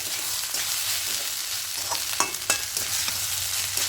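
Jeera rice with ghee is stirred in a pan, giving a steady soft sizzle under scraping spoon strokes and a few sharp clinks, close by, with no voices.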